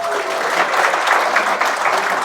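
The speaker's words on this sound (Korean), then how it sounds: "박수 한번 주시죠" An audience at a book concert for a journalist's news essay collection claps in a loud, dense burst that carries evenly for a couple of seconds.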